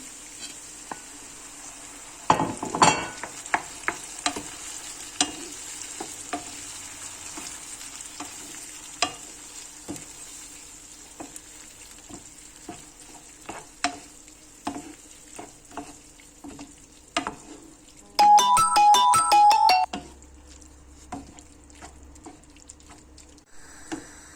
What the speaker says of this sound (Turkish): Şimdi bir 2-3 dakika da biberle soteleyeceğim.